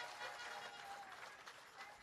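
An audience at the official launch of an irrigation expansion project in Jamaica applauds, a soft continuous patter of clapping running through the whole brief moment.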